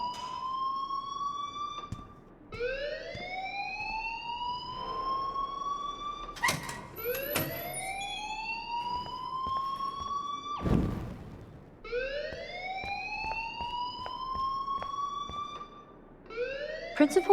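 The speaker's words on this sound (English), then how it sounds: "please turn off that alarm since that's your job." A school alarm in the video game Life is Strange wails on, rising siren sweeps repeating steadily every few seconds, loud and close, with faint game sounds between them.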